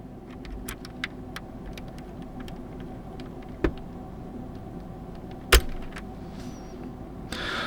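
A switch puller pries keycaps off a hot-swap keyboard with a few quiet plastic clicks and ticks, the sharpest snap about two thirds through, set against a low background hum.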